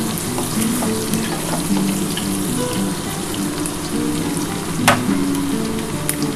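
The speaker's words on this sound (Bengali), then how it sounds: "একটু ভাজা ভাজা হোক তারপর আমি বেগুনটা দেবো" Potatoes and onions fry in a pan for a Bombay duck (lote fish) curry, giving a loud, continuous close sizzle with light stirring and one sharp clink partway through.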